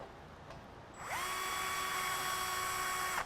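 A power drill bores through a panel on a Baystar boat helm, whirring in one sustained high-pitched burst up close after a quiet start, then cutting off.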